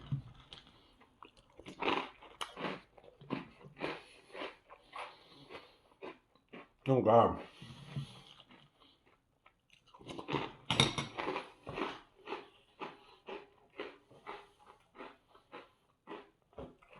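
Organic vegan peanut-butter puffed cereal is chewed in bursts of crisp, close crunching, broken up by someone talking and a brief exclamation.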